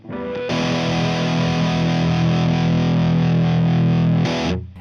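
An electric guitar played through an Orange Rocker 30 amp on its dirty channel into a 2x12 cabinet rings out as one heavily distorted sustained chord, loud and thick, then cuts off with a brief second strum.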